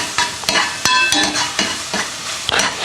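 Peppers and coriander seeds stirred in a hot pan, with a spoon scraping and tapping repeatedly over a close, steady sizzle, no talking.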